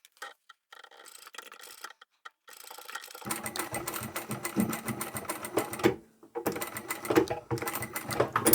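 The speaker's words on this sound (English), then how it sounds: "I'll just take all of this over to the machine and insert them in as I'm sewing them." A sewing machine stitches fluffy bag pieces in a batch run, starting with a few scattered clicks, then whirring in steady close bursts with a brief pause between runs, and no voices.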